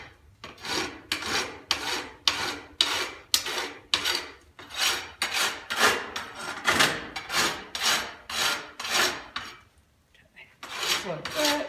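Steel knife blade being worked with a hand file, each stroke a rhythmic, close-up rasping scrape, about fifteen steady strokes with a brief pause near the end before filing resumes.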